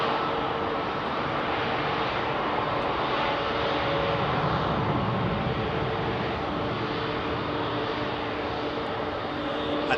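A Cathay Cargo Boeing 747-8F freighter departs London Heathrow, its jet engines giving a loud, steady, broadband roar that holds evenly throughout with no voices.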